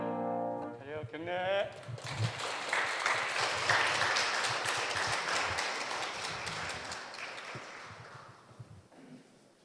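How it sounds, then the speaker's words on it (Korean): Church congregation applauding at a Sunday afternoon praise service after the elders sing; steady, full applause swells after a short sung or spoken opening, holding for several seconds before gradually thinning out. "우리 박수 한번 더 치겠습니다"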